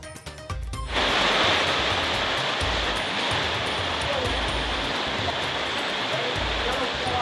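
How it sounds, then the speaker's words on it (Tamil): Heavy rain falls in Tamil Nadu, a dense, steady roar of downpour that starts abruptly after a brief opening moment of voice and continues loud and unbroken to the end. "தமிழ்நாட்டின் பல்வேறு ஊர்களிலும் பரவலாக மழை"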